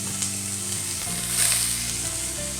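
Smoked sausage searing in a small amount of oil in a skillet gives a steady, close sizzle throughout, with a faint clink of the pan at the start and no talking.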